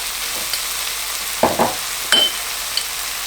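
Spices for butter chicken, including coriander powder, cumin, fenugreek and tandoori masala, stirred in a hot pan: a soft continuous sizzle with a few scraping stir strokes near the middle, close and without talk.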